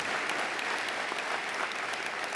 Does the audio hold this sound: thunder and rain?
no